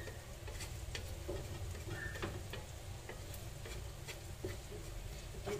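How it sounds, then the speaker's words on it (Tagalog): Scrambled eggs sizzling and frying in a pan as a utensil stirs and scrapes them, a steady close hiss with light clicks and taps and no talking. "Scramble egg lang naman to."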